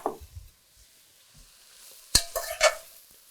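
Sliced cremini mushrooms get stirred in a pot as they sauté in butter and rendered fat, with a few soft knocks and scrapes followed by a sharp clatter and faint sizzle; nobody speaks.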